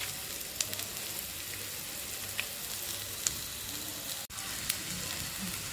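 Ginger garlic paste and dried red chillies sautéing in a pan, a continuous crackling sizzle with faint stirring scrapes and a few brief clicks, close and fairly even throughout.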